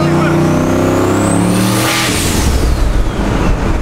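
An 800whp race truck engine revs hard and loud up close on a quick throttle blip, surging in pitch and then crackling and rumbling as it drops back, with excited voices behind it.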